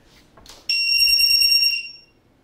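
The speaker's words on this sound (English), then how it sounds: "I didn't like that beep." One sustained high-pitched electronic beep from lightsaber testing equipment, loud and steady for over a second before cutting off, preceded by faint rustling.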